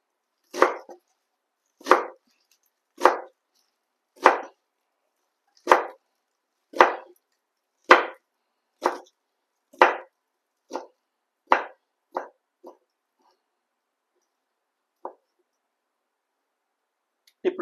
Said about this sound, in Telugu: సేమ్ ఇలాగే ఇంకో కట్టను కూడా కట్ చేసుకో.